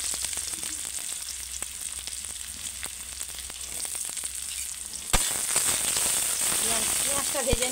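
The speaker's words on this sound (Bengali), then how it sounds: "পেঁয়াজটা ভেজে নিয়ে আমি ওতে আদা বাটা দেবো।" Onion added to spiced oil in a wok, a dense steady sizzle with scattered sharp pops and crackles that jumps louder partway through as the onion hits the oil, with a voice briefly heard.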